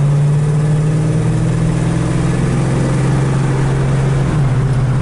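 A 1968 Oldsmobile 442 V8 on a test drive, its steady engine drone loud and close throughout, holding an even pitch before a slight shift near the end.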